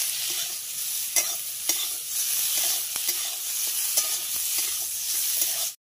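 Eggplant pieces with salt and turmeric fry in oil in a pan, a bright continuous sizzle close by, punctuated every second or so by sharp scrapes and knocks of a spatula turning them, without speech.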